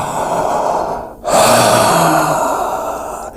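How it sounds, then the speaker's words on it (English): Deep, slow breaths during an LSD trip, a long drawn inhale followed by a heavy exhale, close and loud with no speech. "All you can hear is me breathing very kind of like taking big, delicious breaths"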